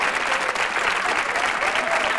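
Audience applause fills a comedy variety show, a steady, dense wash of clapping that holds loud and even throughout with no gaps.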